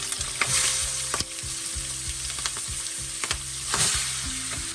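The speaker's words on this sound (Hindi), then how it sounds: "तेल गर्म हो गया, अभी एक एक करके प्रॉन्स डाल देते हैं।" Prawns frying one by one in hot mustard oil over a medium flame, giving a steady close sizzle with soft crackles and occasional utensil clinks, with no talking.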